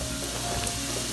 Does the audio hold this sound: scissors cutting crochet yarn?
no